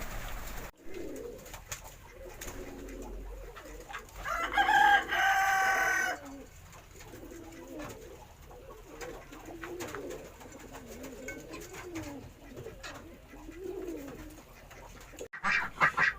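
Ducks and chickens kept on a rooftop call close by: clucking and quacking scattered throughout, with a brief louder squawking burst partway through, over a quiet background.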